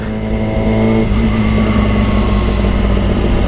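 A Suzuki GSX 1000 motorcycle on a test ride, its engine droning loud and steady with a slight shift in pitch partway through, heard close and alone.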